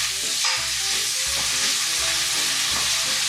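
Food frying in a pan with Cajun and Creole seasoning, a steady close sizzle with broadband crackle and a few stirring scrapes, no voices.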